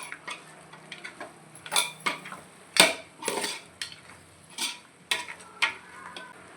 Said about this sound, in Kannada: ಈ ಥರ ಎಲ್ಲ ಮಸಾಲೆಗಳನ್ನು ಹಾಕಿ ಎಲ್ಲ ಮಟನ್ ಪೀಸಿಗೆ ಕಲಿಯುವಂತೆ ಸ್ಪೂನಿಂದ